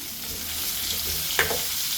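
Paneer curry sizzles steadily in a hot pan while it is stirred, giving a constant frying hiss, with one brief utensil scrape or clink near the end.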